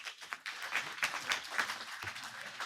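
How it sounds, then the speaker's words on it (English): A conference audience at a news summit in Copenhagen breaks into applause: dense, steady clapping from many hands with scattered sharper claps, fairly quiet and with no talking over it. "Round of applause for the site."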